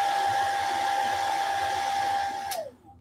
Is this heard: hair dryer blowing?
yes